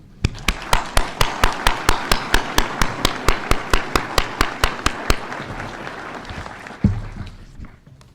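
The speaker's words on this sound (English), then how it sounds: "I hope that you will join me in a round of applause to thank him for his contribution and service on the RTM." Applause at a Representative Town Meeting, heard as sharp, close handclaps in a steady, evenly spaced rhythm over a softer room murmur, stopping after about five seconds, followed later by a single dull thump.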